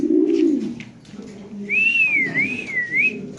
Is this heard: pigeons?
yes